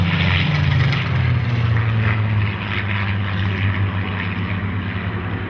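Spitfire XIX PS 890 with a piston engine driving two contra-rotating propellers drones loudly and steadily overhead, a strong throbbing roar with a slight drop in pitch midway, and no voices.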